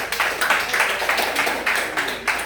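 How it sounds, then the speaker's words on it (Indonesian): Students in a classroom clap for their classmates after a presentation, a short burst of uneven hand claps from a small group, fairly close. "Kasih tepuk tangan ya"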